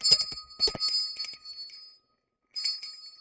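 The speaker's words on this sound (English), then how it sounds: "There's that bell." A small bell rings in quick repeated bright strikes, pauses briefly, then rings again; no voices.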